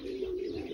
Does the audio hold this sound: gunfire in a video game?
no